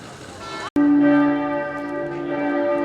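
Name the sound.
church bells ringing at noon in Cochem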